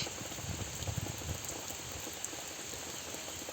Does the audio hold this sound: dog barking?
no